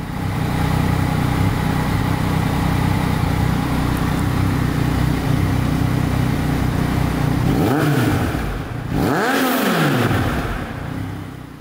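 A 2019 Yamaha XSR900 motorcycle with an aftermarket exhaust runs at a steady, loud idle, then gets two sharp throttle blips that rise and fall quickly near the end.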